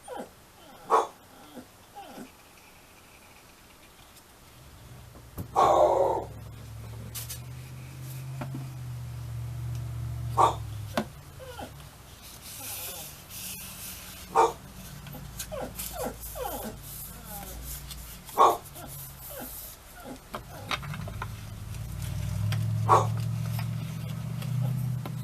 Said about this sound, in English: I'm getting all the puppy sound effects today.